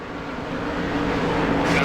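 Race car engines drone in the NASCAR Thunder 2003 video game as cars pass during a race, a steady, slowly rising roar that swells toward the end.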